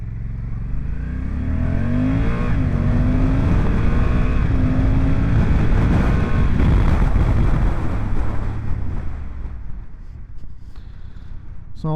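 A Honda NT1100 motorcycle in sport mode 3 accelerates hard, its engine climbing through the gears toward 80 mph with loud wind rush, then the roar fades as it brakes down.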